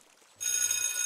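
Apple logo sound: after a short quiet lead-in, a bright sustained electronic chime with ringing high overtones and a low hum underneath sounds alone and clearly, holding for most of a second.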